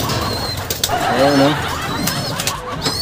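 Racing pigeons cooing during a north race derby basketing, with low, soft coos rising briefly in the middle, heard amid light background noise and a short spoken word.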